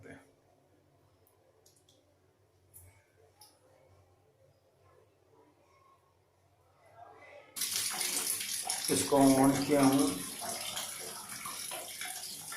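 Water gushes from the outlet of an instant geyser, a sudden loud broadband rush starting about two-thirds of the way in and continuing steadily, after quiet clicks and someone speaking.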